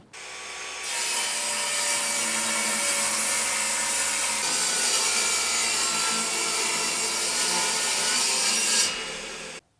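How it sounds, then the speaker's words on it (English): A lump of oak being ripped lengthwise with a saw: steady, continuous rasping strokes run close and loud for about eight seconds, with no talking. "I've got a lump of oak and the first thing I'm going to do is rip it down"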